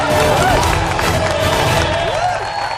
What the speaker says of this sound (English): Ladies and gentlemen, give them a big round of applause.